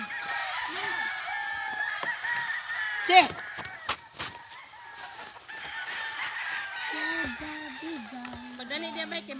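Chickens and a rooster on a farm, clucking and crowing throughout, with people talking and calling out over the birds and a brief loud exclamation.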